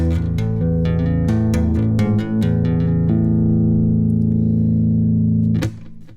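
Bass tapping intro, two tapped parts played together on electric bass: rapid legato hammer-ons and pull-offs over a sustained low note, loud and close, ending on a long ringing tone.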